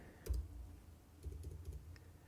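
Quiet typing on a computer keyboard, a couple of brief clusters of soft key taps separated by a short pause, faint against low room noise.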